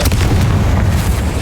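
The Confringo fire spell explodes in the video game Hogwarts Legacy as a loud, deep boom that fills the whole moment and rumbles on without a break.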